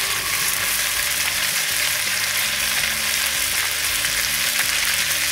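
Salmon sears in browned butter and honey, making a loud, dense, constant sizzle close up that holds evenly throughout, with no talking.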